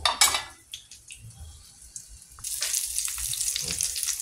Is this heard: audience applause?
no